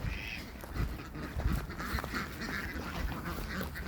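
Several ducks quack repeatedly in a busy, overlapping chorus, close by and fairly loud, continuing for about four seconds.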